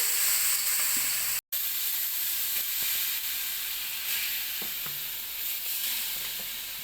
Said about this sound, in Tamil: நெய் சூடு ஏறினோடனே பீட்ரூட் சேர்த்துக்கலாம்